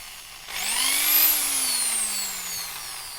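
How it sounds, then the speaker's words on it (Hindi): A Bosch 500-watt corded impact drill revs up and runs steadily, a loud close whine that rises in pitch, holds, then slowly winds down, with no talk over it. "दोस्तों यह है बॉश कंपनी की तरफ से आने वाला एक इम्पैक्ट ड्रिल मशीन।"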